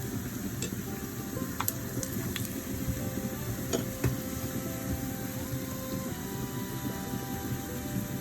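Binangkal dough balls frying in hot oil, a steady close sizzle with a few small pops and clicks, quiet and continuous, no voices.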